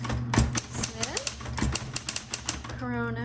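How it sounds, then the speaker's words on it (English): Keys strike on a 1960s Smith Corona Coronet Automatic 12 electric typewriter in a steady run of sharp, close clacks with a low motor hum beneath, and a voice speaks briefly near the end. "now we can start our typing"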